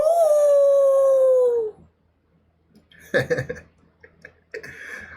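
A single long, steady human howl imitating a wolf, loud and close, gliding slowly downward before cutting off; brief scattered clatter and voice sounds follow.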